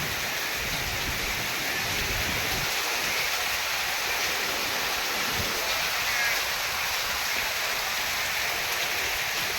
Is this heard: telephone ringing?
no